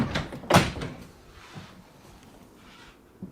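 A part of a 2024 GMC Sierra pickup fitted with a new bed rug is shut, giving one solid thud near the start and then quieter rattles and shuffling.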